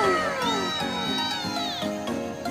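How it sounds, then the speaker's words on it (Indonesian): A cat meows repeatedly and loudly nearby during a balcony camping setup, its drawn-out cries rising and falling over a few seconds. "Wah, kucing. Ternyata kucing, Rek."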